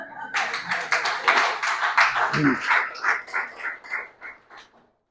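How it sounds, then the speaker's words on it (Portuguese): Audience applause at a Portuguese-language religious workshop, a lively burst of rhythmic clapping with voices over it that gradually thins and fades out. "palmas para a Dona Conceição"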